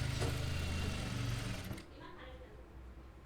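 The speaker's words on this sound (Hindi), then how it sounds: "तो ये देखिए यहाँ पर हम सिलाई भी लगा रहे हैं" A sewing machine runs in a fast, steady mechanical whir while stitching the neckline of a lined suit, loud and close for about a second and a half before stopping, leaving quieter room noise.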